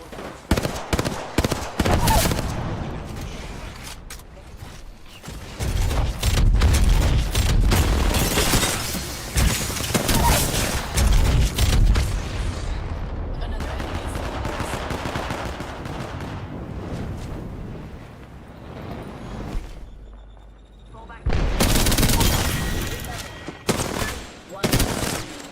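Rapid bursts of smart-bullet gunfire in a console ranked shooter match, clattering volleys and sharp cracks that come in waves with brief pauses for reloading, while a voice talks intermittently.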